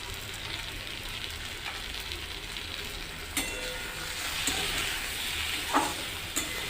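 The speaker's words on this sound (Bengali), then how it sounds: "স্বাভাবিকভাবে আরও 2-1 বার খুন্তি চালিয়ে দিয়ে নেড়ে নিতে হবে।" Spatula stirring fish curry with eggplant in a pan, giving a steady faint sizzle with a few soft scraping strokes and light clinks, no voices.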